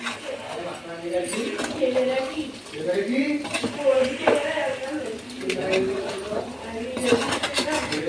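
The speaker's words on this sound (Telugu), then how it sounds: "ఇప్పుడు అన్నిటినీ కలిసేటట్టు కలుపుకోవాలి" Spoon scraping and clinking in a metal bowl as chicken fry masala ingredients are mixed together, a steady close clatter with people talking over it throughout.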